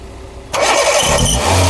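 A Hyundai Santro Xing GLS car engine cranks and catches after a quiet moment, then settles into a loud, close idle on a single start.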